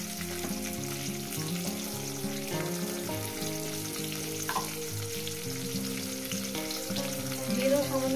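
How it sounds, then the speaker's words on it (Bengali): Potatoes fry in oil in a pan, making a steady, close sizzle with occasional stirring scrapes, continuous for several seconds under faint background music. "আলুগুলোকে আমি সুন্দর করে লাল লাল করে ভেজে নেব।"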